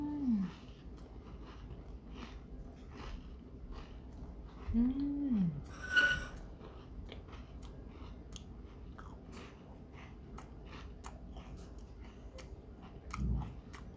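Close chewing and crunching while eating lemon Ritz crackers with No Brand apple jelly, with soft irregular bites and a few louder crunches against a quiet room.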